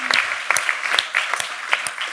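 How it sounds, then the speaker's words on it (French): Applause from a conference audience at the Forum de Giverny for Romain Mouton, a brisk patter of close-up handclaps with a few distinct, sharp claps standing out, steady throughout. "Je vais très sincèrement moi-même applaudir Romain Mouton."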